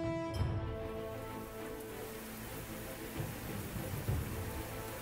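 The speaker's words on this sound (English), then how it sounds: "and it makes it rain," Rain spell cast in the fantasy tactics game Fort Triumph: a steady wash of rainfall with low rumbling thunder swelling beneath it, moderately loud and continuous, with no talking.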